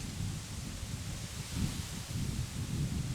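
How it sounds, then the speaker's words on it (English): Low, gusty wind buffeting a microphone, a steady rumbling roar that swells and dips over a few seconds, with no voices. "I love the wind, but I don't know what it's doing to my audio."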